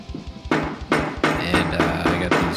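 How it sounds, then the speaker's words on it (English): Several sharp metallic taps of a hammer on leather craft stamps, struck one after another at uneven intervals, close and fairly loud, each with a brief ringing decay. "I got these craft tool stamps where you just hammer them"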